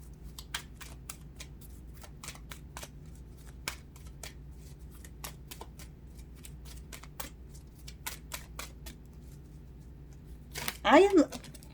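Cards are shuffled in a steady stream of crisp riffling clicks, close up, ending in a louder burst of flicking, with faint room noise underneath.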